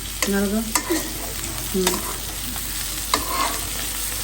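Vegetables fry in a pan and are stirred, a soft background sizzle broken by several sharp scraping strokes of the stirring spoon spaced about a second apart.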